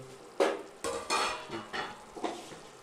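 Cooked chicken being stirred in a pot, a spoon scraping and knocking against the metal in several uneven strokes over a low simmer, near and moderately loud.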